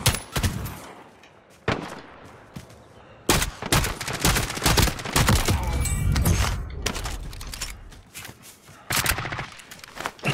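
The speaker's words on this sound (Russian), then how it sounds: "Под обстрелом!" Call of Duty: Warzone gunfire erupts in sharp, loud bursts of automatic and single shots, with clusters of rapid cracks separated by brief lulls throughout the stretch.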